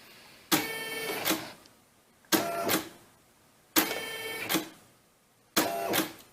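A Brother SE-400 embroidery machine stitches lines in a hoop in four bursts of rapid mechanical chatter, each a bit over a second long, separated by short quiet pauses, close and steady.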